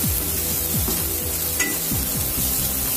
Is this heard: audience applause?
no